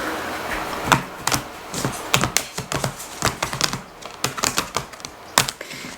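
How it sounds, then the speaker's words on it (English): A tarot card deck is shuffled by hand, close up, with quick irregular flicks and taps that come in rapid bursts. No voice is heard. "2 more shuffles."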